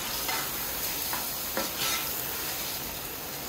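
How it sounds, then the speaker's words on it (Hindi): Chicken being sautéed with ginger, garlic and yogurt gives a dense, steady sizzle close by, with faint stirring scrapes here and there and no voices. "अब इसको कुछ सेकंड आपने भूनना है"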